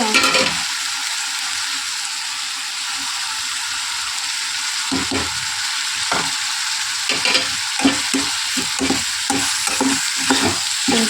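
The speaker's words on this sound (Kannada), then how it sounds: "ಈರುಳ್ಳಿ ಪೇಸ್ಟ್ ಹಾಕೊಂಡಿದ್ದೀನಿ ನೋಡಿರಿ ಮತ್ತು ಇದರ ಜೊತೆಗೆ ಗರಂ ಮಸಾಲ ಹಾಕ್ಕೊತಾ ಇದ್ದೀನಿ" Onion paste and garam masala fry steadily in a pan with a continuous sizzle, while a spoon stirs and scrapes against the metal in irregular knocks, growing busier toward the end.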